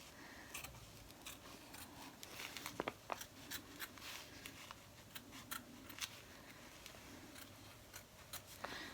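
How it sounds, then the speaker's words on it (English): Scissors snipping through excess fabric during in-the-hoop embroidery of a lined lamb zipper bag, a string of faint, close, irregular clicks and crisp snips. "I'm just going to go ahead and cut this excess fabric"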